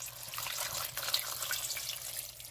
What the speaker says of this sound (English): Okay, so now I'm gonna add in some spring water.